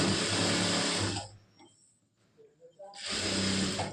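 A sewing machine stitches a ladies' collar in two loud, fast runs of close, steady whirring, split by about two seconds of near silence with faint handling clicks.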